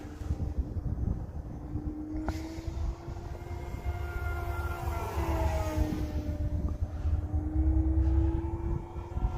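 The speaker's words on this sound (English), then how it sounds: "This airplane is really fun to fly." An E-flite T28 RC model airplane flies overhead in cold weather, its electric motor whine rising and falling in pitch as it passes, steady and moderately distant over light wind rumble.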